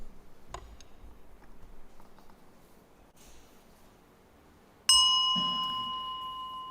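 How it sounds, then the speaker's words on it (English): A Buddhist bell is struck once to open a chanted bell song at a sutra lecture, ringing out loud and clear after soft ticking and rustling, its pure tone sustaining and slowly fading. "we have a bell song that we'd like to invoke"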